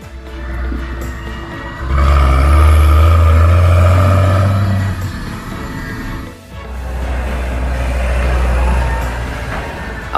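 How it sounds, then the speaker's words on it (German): Engines of New Holland D7070 and D7270 tractors towing largely home-built tridem push-off trailers in a harvest chain, a loud, steady diesel roar that swells mid-clip, dips briefly, then continues close by. "der hier mit einem New Holland D7070 sowie einem D7270 in der Erntekette mitfährt"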